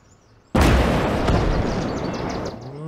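A heavy artillery gun fires in the video game Call to Arms: Gates of Hell, a sudden loud blast followed by a long rumbling, crackling roar that slowly fades over a couple of seconds.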